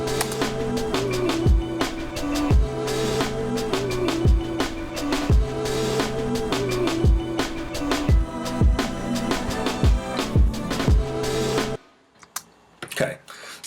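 A hip hop beat built in Ableton Live plays loud and steady: a looping drum pattern with a heavy repeating kick, open hi-hats and a sustained melodic sample. It cuts out near the end, leaving a faint, sparse tail.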